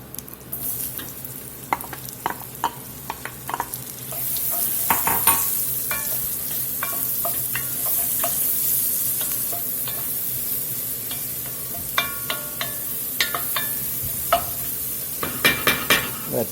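Onions sizzle and fry in rendered bacon fat in a soup pot, a steady close crackle broken by sharp clinks and scrapes of a spoon stirring against the pot, with a louder burst of stirring near the end.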